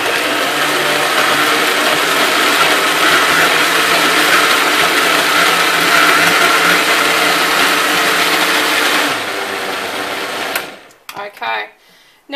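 An Optimum 9900 blender runs steadily and loudly as it mixes gluten- and dairy-free orange, almond and chocolate cake batter, its motor whirring continuously before dropping off near the end, where brief clatter follows.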